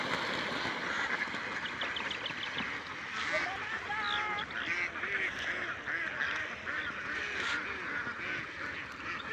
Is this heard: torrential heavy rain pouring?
no